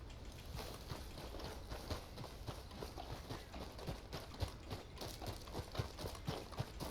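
Horse hooves clip-clop steadily in Red Dead Redemption 2, a light irregular trot of soft thuds over a continuous outdoor ambience, moderately close and fairly quiet, with no talk.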